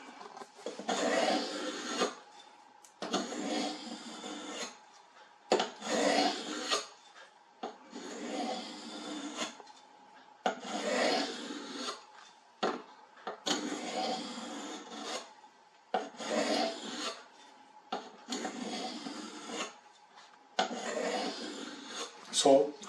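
Kitchen knife drawn in long, steady strokes across a sharpening stone, about ten rhythmic rasping passes with brief pauses between them, close and clear with no talking.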